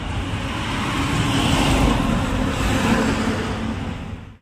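A car arriving at a roadside spot, its engine hum and tyre roar swelling to a steady, fairly close rumble with low-end weight, then dropping away sharply at the end, alone without speech.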